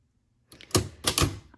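A vintage typewriter clacks through a short burst of a few sharp keystrokes close by, starting after a brief silence and standing alone with no voices.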